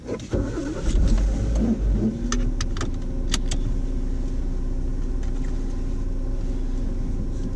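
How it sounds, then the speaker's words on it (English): A learner driver's own car is started for a driving test: keys jingle, the engine cranks and catches, then settles into a steady close idle with no talk. "start the engine when you're ready and move off when you're ready, please."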